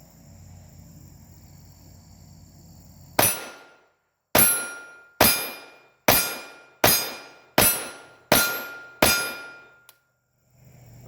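Eight sharp .22 pistol shots from a Taurus TX22 Gen 2 firing CCI Stingers ring out at a steady, fairly quick pace after a few seconds of quiet ambience, each crack loud and close with a short ringing decay.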